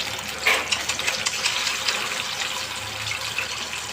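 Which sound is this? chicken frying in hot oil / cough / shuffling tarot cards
chicken frying in hot oil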